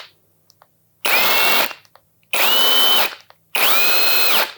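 A Mollar CIW 21500 impact wrench at speed 3 runs in three loud bursts of about a second each, a whirring mechanical whine with short pauses between. No one speaks.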